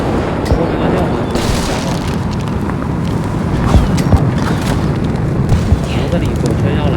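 Bomb blasts in the mobile battle game Zooba, a series of booming game explosions amid busy in-game action and footsteps, steady and loud throughout with several heavier thumps.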